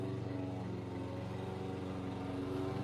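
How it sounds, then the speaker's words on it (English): A lawn mower runs outside, a steady, mid-pitched engine drone with a faint rhythmic flutter that stays even and somewhat distant throughout, with no voices over it. "They're mowing again."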